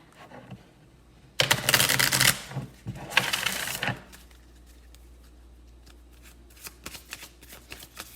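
A deck of tarot-style reading cards is shuffled in two loud bursts of riffling and flicking close to the mic, followed by quieter scattered card taps and shuffles in a calm room.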